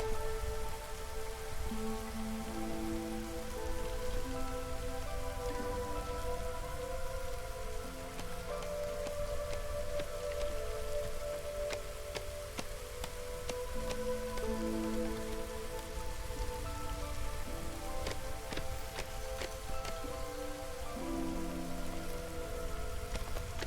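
Steady light drizzle in the video game Against the Storm, a soft continuous patter of rain under layered tonal game music with occasional bright percussive ticks, no talk.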